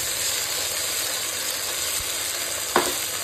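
Onions frying in hot oil with tomato, ginger-garlic and green chilli paste in a home kitchen: a loud, continuous sizzle with steady hiss, a soft stirring knock midway and a sharper scrape near the end.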